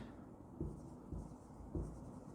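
Writing on paper or a board during an accounting lesson on bank reconciliation statements, three soft dull strokes in a slow rhythm over a faint steady hiss, close and quiet with no speech.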